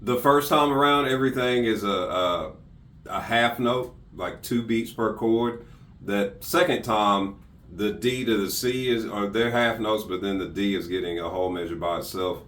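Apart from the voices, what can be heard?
None of the usual background noises is heard.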